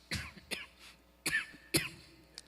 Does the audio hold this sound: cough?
yes